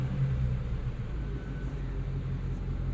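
A 2016 Ford Mustang Shelby GT350 in normal exhaust mode idles with a steady, low, fairly quiet rumble that stays even throughout.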